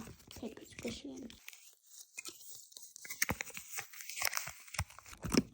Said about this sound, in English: Get a clump of felt and start filling your paper squishy in.